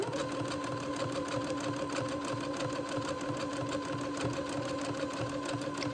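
A sewing machine runs steadily while zigzag stitching across a folded fabric edge on a dress sleeve, a close, even mechanical whir with rapid repeating needle strokes and no pauses.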